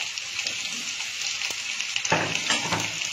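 Potato pieces, washed and dried, fry in a pan with a faint, close sizzle, broken by scraping stir strokes that grow busier toward the end.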